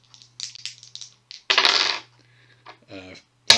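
A handful of dice clatter and roll across a table during a Shadows of Brimstone board game turn, one sharp rattling burst followed by a few lighter clicks and a final knock, with no talk.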